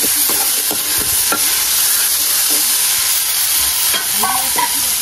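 Food sizzles and fries steadily in a hot pan, a constant bright hiss with occasional stirring clinks and scrapes of a utensil, close and loud throughout with no talking.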